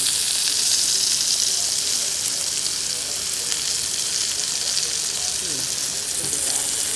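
Burger patty frying in a pan, a loud, steady, close crackling sizzle with bright hiss that continues evenly throughout, with no voices.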